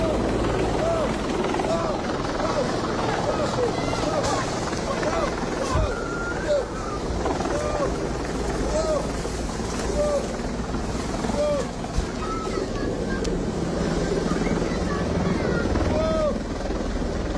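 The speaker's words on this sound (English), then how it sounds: "That is a Mi-24 attack helicopter presumably belonging to the armed forces" Mi-24 attack helicopter in flight, a steady, loud rotor drone and engine roar that persists throughout, with wind buffeting and faint chirping sounds over the top.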